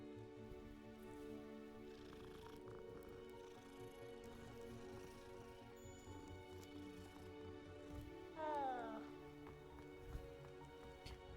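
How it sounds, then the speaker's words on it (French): Cat purring in the video game Hogwarts Legacy, a faint low steady rumble that runs for several seconds under looping game music, with a brief rising chirp near the end. "il fait des bruits bizarres le chat quand même"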